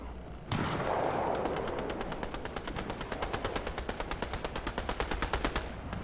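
Rapid automatic gunfire in a Fortnite firefight, a loud burst of close shots followed by a long steady rattle of evenly spaced rounds that runs for several seconds before stopping.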